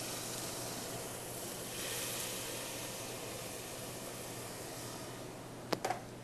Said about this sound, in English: wonderful sizzling.